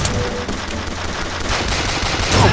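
Continuous gunfire in the video game BioShock Infinite, a dense loud clatter of shots sustained through the clip with a sharper burst near the end.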